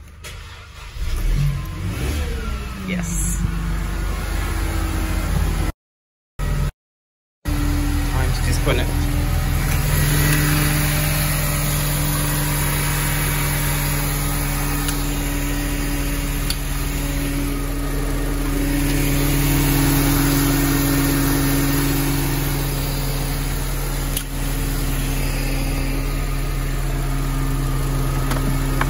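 A Mercedes engine cranks and catches after sitting with a battery drain problem, then settles into a steady idle with occasional revs; a brief word is spoken early and the engine runs on alone for the rest.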